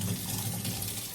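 Water from a tap gushes in a steady, soft stream while an orchid is rinsed, a low continuous splashing with no voices.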